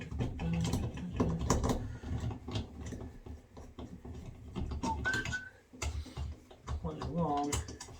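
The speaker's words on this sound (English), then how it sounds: "Now the other one is Phillips head screwdriver. Just going to unscrew these." A Phillips head screwdriver works the trim screws on a Moen shower and tub fitting, giving close clicks, ticks and metallic rattles in an uneven rhythm, with a voice talking over the sounds.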